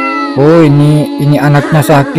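A sick cat on an IV drip with its mother meows loudly and repeatedly in drawn-out, wavering cries, up close, while a person talks over part of it.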